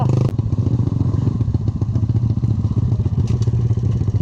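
A motorcycle engine is started and revved hard, its loud steady droning roar running throughout with clattering mechanical knocks and a sharp thump near the start.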